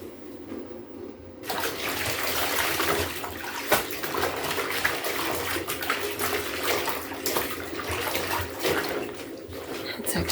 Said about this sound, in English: So this is adding some hot water.